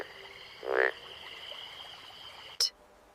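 A single frog croaks once, loud and close, over a steady background chorus of insects or frogs, followed by a brief sharp chirp near the end.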